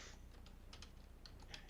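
Very faint typing on a computer keyboard, a scattering of soft irregular key clicks under a low background hum, no voices.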